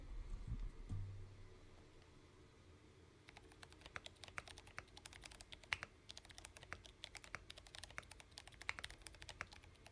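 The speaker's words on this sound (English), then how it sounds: "Let's just do a very quick typing test with a bit of monkey type." Keyboard typing at a quick, steady pace during a Monkeytype speed test on a Minerva LX build, with dense clicky keystrokes that begin after a few seconds of quiet low room noise and then run continuously, close and moderately loud.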